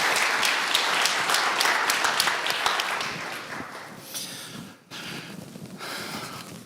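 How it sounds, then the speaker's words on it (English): Audience at a community summit gives a round of applause, a dense, close burst of many hands clapping that fades after a few seconds into scattered claps and room noise. "Let's just give all ourselves an affirmation round of applause for doing it."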